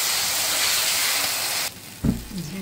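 Onions fry in oil in a wok with a loud, close sizzle that suddenly drops away, followed by a short clunk and a quieter sputter, with no voices.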